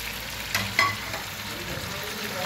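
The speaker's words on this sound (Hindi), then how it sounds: "अब इसको दो तीन मिनट के लिए मैं इसको चम्मच चलाऊंगी" Meat for Kabuli pulao fries in a hot pot as a spoon stirs it. A continuous close sizzle carries a couple of sharp clinks and scrapes near the start.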